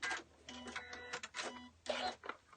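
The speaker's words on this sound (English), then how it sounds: "I'm stitching the center back seam" A sewing machine stitches the center back seam of a fleece hat, running in several short, fairly loud mechanical bursts with brief pauses between them.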